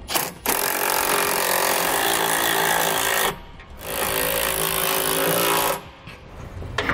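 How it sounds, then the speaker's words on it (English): A power tool, likely an impact driver, tightens bolts with a 15 mm socket while installing a Lippert electric leveling system on a 2019 Keystone travel trailer, giving two loud sustained rattling bursts separated by short pauses, close by. "Now we can go back and tighten out all of our hardware. We're going to use a 15 millimeter socket and wrench to do this."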